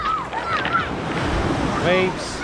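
Ocean waves surge and wash at night on a black sand shore for a dive trip, a broad rushing swell with wind buffeting the microphone.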